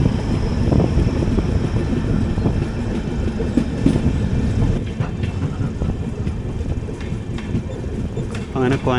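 The Coimbatore Mangalore Express 16323 rolls along the rails near Coimbatore North station, a steady loud rumble with rhythmic wheel clatter and wind rush heard from on board, a voice talking over it.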